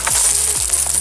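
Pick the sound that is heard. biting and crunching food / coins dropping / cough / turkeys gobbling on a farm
coins dropping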